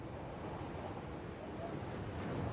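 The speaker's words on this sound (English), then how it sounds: "Right, just some wind, ocean wind." Ocean wind used as a sample in a live beat-making session: a steady, broad wash of windy, surf-like noise, faint and unbroken, with no voices.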